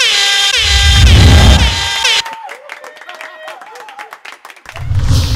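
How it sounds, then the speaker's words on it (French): A loud blaring horn gives way to an audience at a stand-up comedy show, with scattered clapping and cheering rising again near the end. "Est-ce qu'on peut applaudir encore pour Gandhi Ndeke?"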